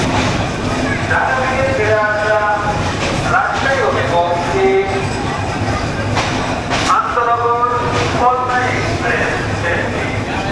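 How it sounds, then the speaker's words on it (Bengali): Padma Express train pulling into Dhaka Airport railway station at night, a steady loud rumble of rolling wagons with rhythmic wheel clatter and squealing tones throughout, voices and announcements in the background. "রাত 12:15টার সময় আমরা ঢাকা বিমানবন্দর স্টেশনে প্রবেশ করলাম।"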